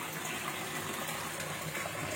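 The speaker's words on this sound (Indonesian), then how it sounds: "Ini gelembung menggunakan daya dari baterai." Steady rushing, bubbling water from a battery-powered aquarium aerator, a continuous close hiss and gurgle with no talking.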